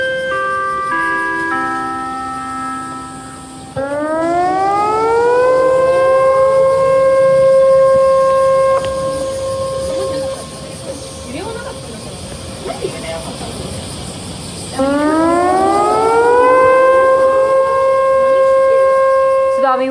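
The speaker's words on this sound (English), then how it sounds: "Tsunami warning sirens are blaring in Japan as well as Russia" Tsunami warning sirens in Japan wail loudly in long rising and steady tones, one siren cutting out before another starts up again, with traces of a voice heard underneath.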